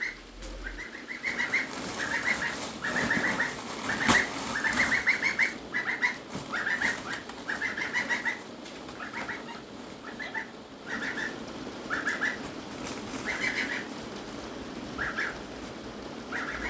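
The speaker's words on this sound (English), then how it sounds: "Geese that don't like the rain." Repeated bursts of wings flapping and honking calls from geese, close by and intermittent, over a soft hiss of rain.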